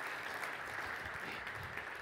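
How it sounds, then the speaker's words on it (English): A warm round of applause from a conference audience at a developer event welcomes a speaker to the stage, steady dense clapping filling the whole stretch without a break. "let's give him a welcome,"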